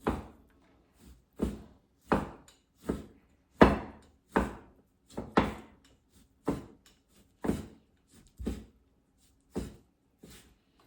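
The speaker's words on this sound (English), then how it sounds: "so now I chop them as these pieces" A knife chops ingredients for pork with green onions on a cutting board: a dozen or so crisp, separate knocks at an uneven, unhurried pace, close by and with quiet gaps between strikes.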